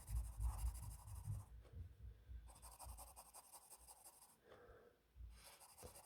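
A pencil draws and shades a statue eye on paper, making quiet scratchy strokes in bursts that stop and start with short pauses between them.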